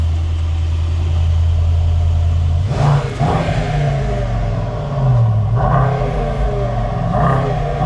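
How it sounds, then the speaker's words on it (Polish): A Mercedes-AMG GT 63 S E Performance 4-door with its V8 engine idles with a deep, loud rumble, then blips sharply twice and revs again, close and alone. "Na pewno chcielibyście zobaczyć tą V8 i jej posłuchać. No to odpalimy."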